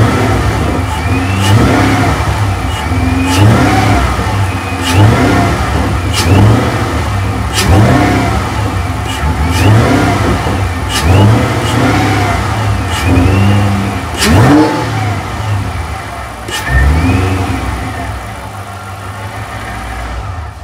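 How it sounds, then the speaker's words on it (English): A car engine with a blown motor idles close by and rises in repeated short revs as the gas is tapped, each roughly every two seconds, loud and alone without talk. "Maybe I'll try tapping the gas a little bit just to see if it happens"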